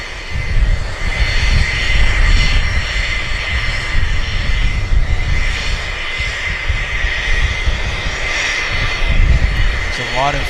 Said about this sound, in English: This is Westjet Mickey Mouse. A bit far because it's landing on south side